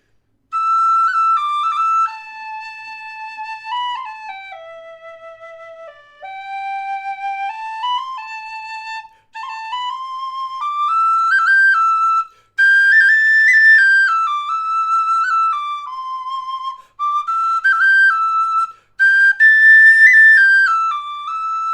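A clear, bright Thornton tin whistle plays a slow stepwise melody in sustained phrases, loud and close, with brief pauses between lines.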